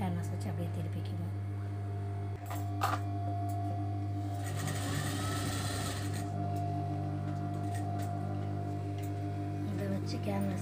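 A sewing machine stitches around canvas on a crop top, a steady mechanical whirring running nearly throughout over a low hum, with a louder, busier stretch in the middle.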